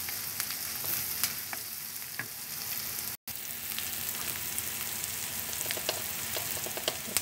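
Garlic fries to golden brown in a pan, a loud, close, continuous sizzle with scattered crackles and pops, briefly cut off once, with no talking.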